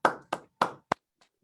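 Four quick, separate claps from a small group at a Rotary Club meeting, evenly spaced, followed by one faint final clap, with no voices.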